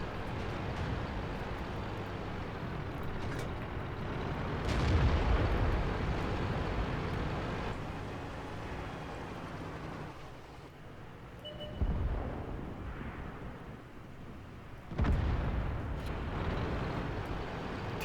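Tank cannon fire in World of Tanks, with several heavy booming shots spaced a few seconds apart over a steady low engine rumble, fairly loud and close.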